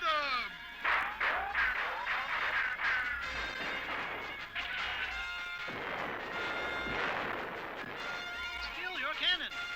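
Rapid cartoon gunfire and crashing blasts go off in bursts while excited voices shout and talk over the racket.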